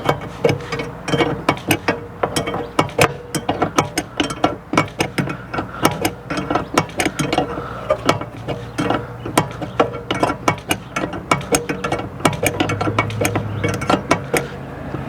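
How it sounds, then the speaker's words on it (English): A ratcheting wrench loosens the nut holding the burner tube of a Suburban water heater. It makes a close, steady run of rapid metallic clicks for about fifteen seconds, with occasional clanks of metal. "So we'll just get this nut off under here that holds the burner tube in"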